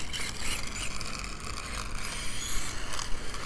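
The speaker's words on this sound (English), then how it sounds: "Mega fast steering servo." A Tamiya Mad Fighter RC car with a fast steering servo and standard 540 motor whirs and clicks in quick mechanical bursts, a faint close buzzing and ratcheting with no talk.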